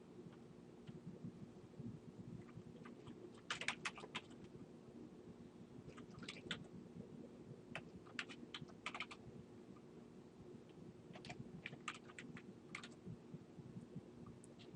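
Someone types on a computer keyboard while entering a search in Google Earth, producing quiet, scattered clusters of clicky keystrokes separated by pauses over a faint, steady background hum.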